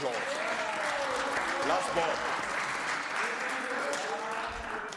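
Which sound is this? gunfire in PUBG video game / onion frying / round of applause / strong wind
round of applause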